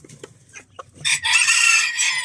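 Chickens in a coop give a few soft clucks, then a loud, sustained rooster crow rings out nearby.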